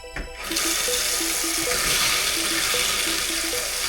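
Water gushes steadily from a newly fitted tap, a loud continuous splashing rush that starts after a brief moment and carries on alone.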